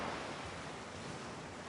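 Broad steady wash of water at a waterside spot, like surf or lapping waves, constant and even throughout with a soft windy hiss and no talk.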